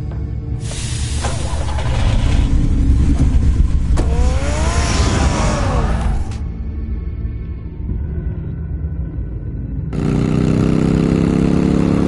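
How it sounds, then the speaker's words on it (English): Car engine in a Batman Arkham-style video game, loud and sustained, swelling and revving across the clip with a brief dip before surging again, no talk over it. "Get the car ready"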